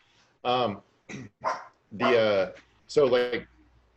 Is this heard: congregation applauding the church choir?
no